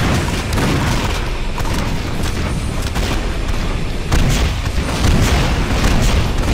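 Heavy cannon fire in the video game Painkiller Black Edition, dense booming blasts that pound continuously and loudly throughout, with no speech over them.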